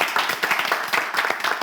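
Studio audience applause on a French TV quiz show after a contestant wins seven keys, dense steady clapping at moderate volume throughout.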